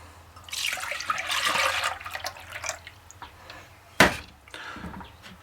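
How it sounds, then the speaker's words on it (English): Four cups of milk poured into a saucepan, a soft liquid stream that swells and then tapers off, ending in a brief clunk, fairly quiet and close, with no voices. "In a saucepan we're going to add 4 cups of milk"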